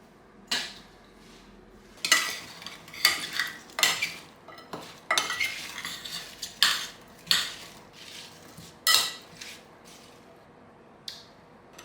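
A spoon stirs a lime and strawberry mixture for a rhubarb-strawberry pie, producing irregular bursts of wet scraping and clinking against the bowl, close and fairly loud, with short pauses between strokes and no talking.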